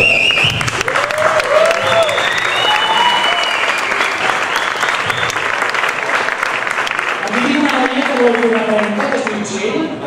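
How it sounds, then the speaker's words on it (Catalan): A crowd at a party event gives sustained, loud applause for the t-shirt designers, dense clapping that continues for about ten seconds with some cheering voices mixed in. "un aplaudiment per tots ells"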